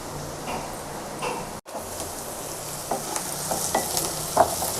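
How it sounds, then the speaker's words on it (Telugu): Onions fry in a pan with a steady close sizzle, broken by scraping stirs, one brief cut near the start, and a few sharper pops and clicks toward the end. "ఉల్లిపాయలు కొద్దిగా కలర్ మారేంత వరకు, కలర్ కొంచెం చేంజ్ అయ్యేంత వరకు వేయించుకోవాలి."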